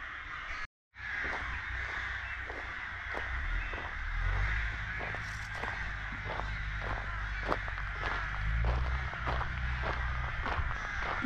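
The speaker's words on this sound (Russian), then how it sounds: "Так много ворон здесь." Many crows cawing repeatedly in an open park-like area beside an old building foundation in a Kazakh village, harsh calls recurring steadily over continuous outdoor noise and a low rumble, with a brief dropout early on.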